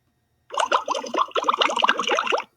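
A burst of bubbling water gurgles continuously for about two seconds, close and clear, with no talking: a bubbles sound effect played by a Sphero robot.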